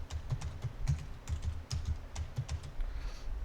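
Rapid, uneven keystrokes clatter on a computer keyboard while passwords are entered, with close, light taps in quick bursts and brief pauses, and no talking.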